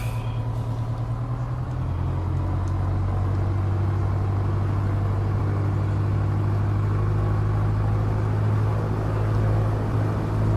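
A simulated Piper PA-28-181 Archer III engine holds a steady droning run-up at 2,000 RPM, loud and continuous with an even low hum throughout.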